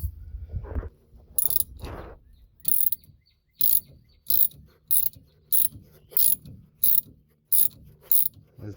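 A hand tool ratchets in steady, evenly spaced bursts of crisp metallic clicks, about two per second, while pulling the steering idler arm free on a 1979 Ford Granada. Some duller clunks and handling knocks come first, and no one speaks.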